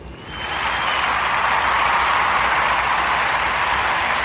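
A live studio audience breaks into applause, building quickly from quiet into a dense, steady roar of clapping that holds strong to the end.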